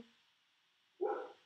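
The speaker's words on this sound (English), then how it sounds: "it's my dog barking" A pet dog gives a single short, fairly loud bark indoors after a quiet moment.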